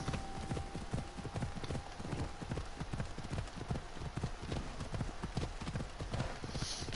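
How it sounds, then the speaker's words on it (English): A horse gallops in Assassin's Creed Odyssey: a fast, continuous drumming of hoofbeats, loud and close, with an ambient game soundscape behind it. "I finally called my horse in instead of just running everywhere"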